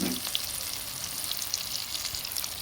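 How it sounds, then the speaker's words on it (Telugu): Chili bajji fritters fry in hot oil, a steady close crackling sizzle with small pops, alone and moderately soft. "ఇవి కూడా 2 నిమిషాలు వేగిన తర్వాత రెండో సైడు తిప్పుకోవాలండి."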